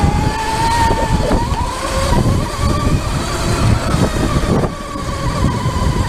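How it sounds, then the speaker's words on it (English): Sur Ron Light Bee electric dirt bike with a primary chain kit riding at speed: a steady, high electric motor whine with loud wind and drivetrain rumble throughout, close and continuous. "Let's hit it dirt bike style with some speed."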